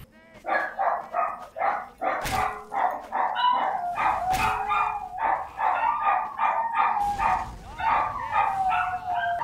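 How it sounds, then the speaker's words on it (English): Several dogs bark in quick repeated bursts, fairly close and continuous, with some yips and a whining tone running among the barks. "the dogs are barking, I'm just gonna give it a minute"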